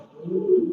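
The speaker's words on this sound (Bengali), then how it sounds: "এই যে ডাকতেছে অনেক সুন্দর এটা কি কবুতর" A single soft, rolling coo from a Mundian pigeon swells and fades, close by and alone with no talking.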